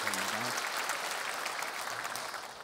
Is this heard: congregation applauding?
yes